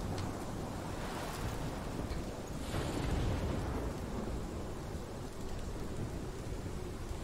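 A thunderstorm in the Life is Strange video game: steady, heavy rain hisses without pause under a low, rolling rumble of thunder.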